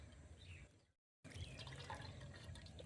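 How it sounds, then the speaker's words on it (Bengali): Water drips and trickles close by as fresh chhena is squeezed by hand for sandesh. The sound is faint and steady, with a brief silent gap near the middle. "এমন হালকা হাতে আমি চেপে চেপে জলটা বের করে নেব।"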